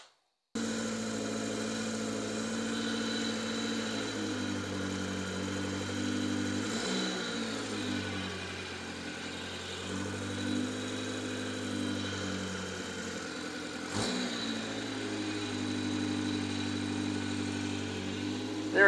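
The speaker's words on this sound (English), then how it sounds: "So I'm gonna start this thing up and we'll adjust the idle." A Subaru Sambar engine starts and settles into a steady idle, a continuous mid-pitched hum with a few slight dips and swells, close and alone.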